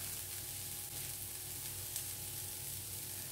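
Chicken pieces fry in oil in a pan for a homemade spring chicken fry, giving a soft, even sizzle that carries on throughout with no voices.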